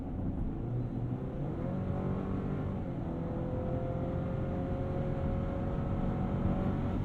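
2023 Chevy Colorado pickup accelerating hard, heard from inside the cab with a steady, droning engine note that rises gradually. Road and wind noise run throughout, and no one talks.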